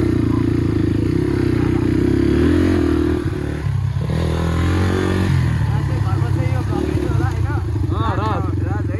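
A motorcycle engine runs steadily during a ride to Dhap Dam, a loud, continuous drone with small shifts in pitch and some rattling, while a voice talks over it near the end.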